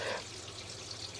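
Water running through a home's household drain pipes toward the city sewer tie-in, a soft steady trickling wash that carries on continuously and fairly faint, with no talk over it.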